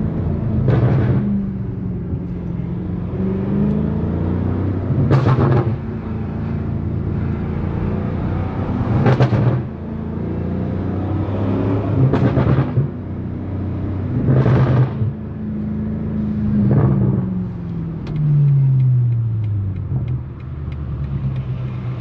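A BMW F90 M5 Competition drives on city streets with a loud, steady engine drone heard from inside, rising and falling through repeated gear changes and revs, with sharp shift blips every few seconds.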